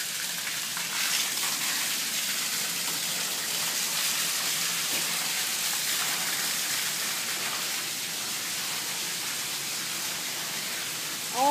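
Water runs steadily in a continuous hissing stream. A brief clatter sounds at the very end.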